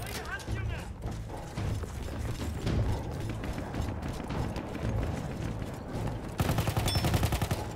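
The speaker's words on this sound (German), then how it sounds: "Der schießt erstmal auf dich." Rapid gunfire from an enemy soldier in Battlefield 1 crackles in bursts throughout, moderately loud and mixed with game mechanisms and ambience, with a denser, harsher volley near the end.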